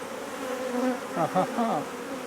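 Honeybees hum steadily at an open hive during brood removal, a dense close buzz with a few louder individual bees sweeping past near the end.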